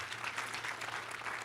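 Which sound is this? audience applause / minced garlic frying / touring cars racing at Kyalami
audience applause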